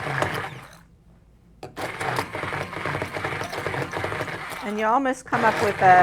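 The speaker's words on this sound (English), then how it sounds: "We're going to use a handheld blender and just blend it a little bit" A handheld blender whirs through a tofu mixture in a steady, close buzzing run, starting after a brief quiet gap, while a person talks throughout.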